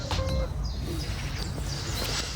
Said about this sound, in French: mais on entend un pouillot véloce dans les arbres.